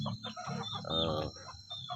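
Free-range village chickens cluck and squawk busily during feeding, several birds close by in a continuous overlapping chatter, with a steady high insect-like hiss behind them.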